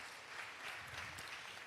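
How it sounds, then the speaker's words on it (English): A crowd at a poetry slam claps steadily for a performer, a dense, even burst of applause filling the short moment without speech. "Give her a round of applause."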